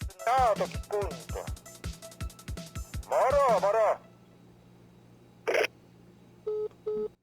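A telephone call in the video game My Winter Car: a run of rapid dial tones, then warbling electronic ringing, a short burst of static and two brief beeps as the line disconnects, all loud and close.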